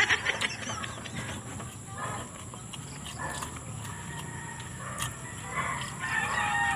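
Chickens cluck and a rooster crows at a distance over a busy outdoor background, with scattered clucks and a brief thud.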